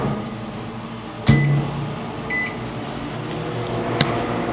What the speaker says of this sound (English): So we're going to heat it up in the microwave